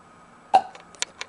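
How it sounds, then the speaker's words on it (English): A single short burp-like vocal burst stands out near and fairly loud, trailed by a few faint, brief follow-up sounds in an otherwise quiet room. "if you keep burping like that"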